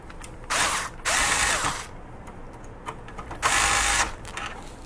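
Screws being driven into the sides of a Blaze 2 unit, heard as buzzy ratcheting bursts, two close together and then a third after a pause, with quiet gaps between them and no talking.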